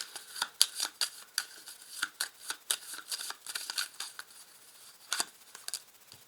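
Tarot cards are shuffled close up in a rapid, uneven run of crisp riffling and slapping flicks, fairly faint, with no talk.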